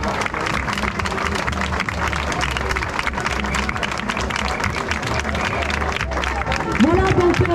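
A crowd at a street demonstration in Nice by laid-off healthcare workers claps warmly, a steady dense patter of applause mixed with murmuring voices and a shout or whistle rising near the end.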